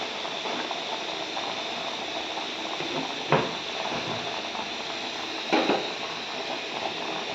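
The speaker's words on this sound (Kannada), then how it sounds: "ಈ ಥರ ಚೆನ್ನಾಗಿ ಕುದೀಲಿ" Ragi flour cooks in a pot of boiling water for ragi balls, a steady bubbling hiss at moderate level, broken by two brief louder bursts a few seconds apart.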